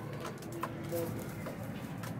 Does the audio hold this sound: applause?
no